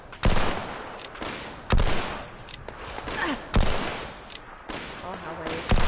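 Rapid gunfire bursts in Fallout 76, with repeated sharp volleys and short pauses between them, loud and close, with other shots and game effects underneath.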